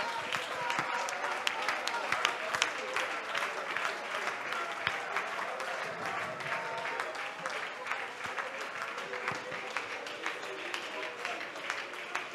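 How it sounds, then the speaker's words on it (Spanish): A church congregation applauds during a sermon by a pastor, steady moderate clapping lasting several seconds with voices murmuring faintly underneath. "Démosle un aplauso a él."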